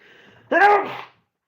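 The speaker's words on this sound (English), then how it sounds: "I think I'm gonna sneeze, so bear with me." A single sharp human sneeze, close and fairly loud, bursting out after a quiet moment of soft breath and ending abruptly in silence.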